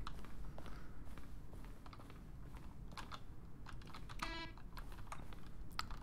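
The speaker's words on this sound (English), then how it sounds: "Each sound is a mix of a keyboard stroke and a synthesized tone." Button-press sounds from the game The Stanley Parable, each a keyboard keystroke blended with a synthesized tone, arrive as scattered clicks with a brief tonal chirp over a steady low background hum.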